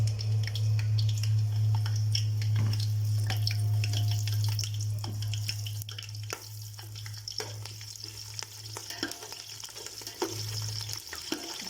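Green chilies fry in mustard oil in a pan, a steady soft sizzle with scattered crackles and pops, fairly quiet, against a low background hum and no talking.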